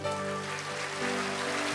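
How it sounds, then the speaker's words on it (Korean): A church audience at a Sangnam Church festival in Changwon claps steadily, a brief, dense patter of applause over a held musical tone. "박수 좀 쳐주세요."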